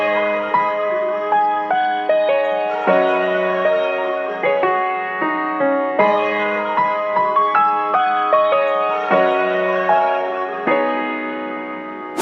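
A beat sample is pitched up seven semitones for an energetic sample-type beat. It has bright, layered melodic chords and plucked notes moving in a steady repeating pattern, loud and continuous, with no voices over it.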